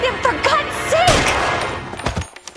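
Gunfire from the 1940s Los Angeles crime game L.A. Noire: Remastered, a burst of sharp shots and rattling impacts mixed with shouted dialogue and game sound, loud and close, tailing off at the end.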